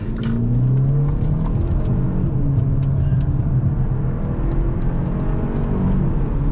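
A 2021 Hyundai Elantra N Line driving in sport mode on an open road, with a steady, loud engine and road drone that continues without a break.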